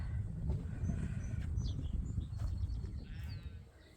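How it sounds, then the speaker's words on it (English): Ewe lambs and ram lambs out on grass on a sheep farm, bleating faintly at a distance in a quiet outdoor setting, with light bird calls. "So those are the ewe lambs, and the ram lambs are over here."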